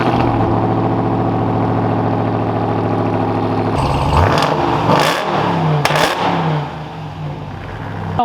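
A 2021 Ram TRX pickup's engine and exhaust, loud and close, first holding a steady deep idle-like drone, then breaking into several sharp revving blips that rise and fall before settling back down.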